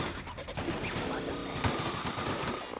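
Rapid gunfire in The Outer Worlds as a player shoots at robots, bursts of shots layered over busy game music and effects at moderate level.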